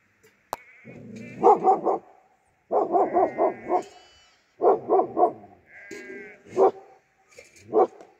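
Several dogs bark in repeated clusters of sharp, close barks, with whines and yips between bursts and quieter moments in the gaps, at a forest camp.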